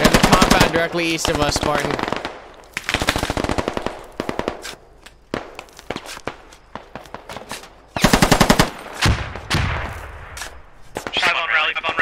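Machine gun fire rattles in long rapid bursts during a firefight in the video game Squad. The fire is loud and close, broken by heavy shots and short gaps, while a player speaks over the radio.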